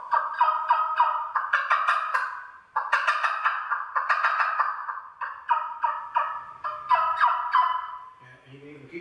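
Turkey call made of river cane with a carbon fiber tube inside, producing a string of loud, clear, close yelps and clucks in rhythmic bursts, with a brief pause and a softer trailing series at the end.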